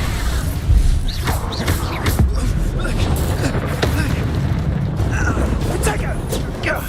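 Expulso spell blasts in Hogwarts Legacy, booming explosions and thuds among continuous combat effects, with a voice talking over the action.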